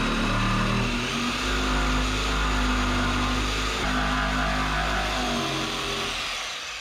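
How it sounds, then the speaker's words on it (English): A jigsaw fitted with a new blade cuts steadily, giving a loud, continuous buzzing whine from start to finish that fades slightly at the end. "I did finally remember to grab a jigsaw blade for this thing, and I almost forgot to use it, so we're gonna cut this real quick"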